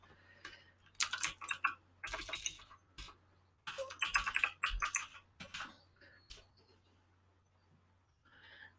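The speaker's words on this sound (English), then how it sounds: "we just search for it by typing Mathswatch in the search bar" Quick bursts of typing on a computer keyboard, clustered taps with short pauses between, close and fairly quiet in an otherwise still room.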